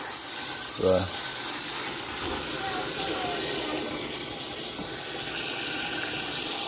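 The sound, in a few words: water pouring into a jar of oats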